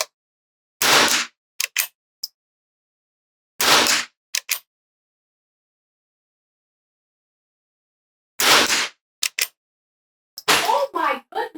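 CCI Quiet 22LR rifle rounds fired at a 50-yard target outdoors: three sharp, isolated shots spaced several seconds apart, each a short crisp crack, followed by a few light clicks and someone speaking at the end.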